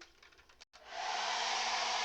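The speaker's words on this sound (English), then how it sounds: "Just going to give it a dry, and I'm going to pause you while we dry so you're not picking up the sound of my dryer." A handheld hair dryer blows on freshly painted daisies on a fence, starting after a brief pause and settling into a steady, loud, continuous whoosh that holds to the end.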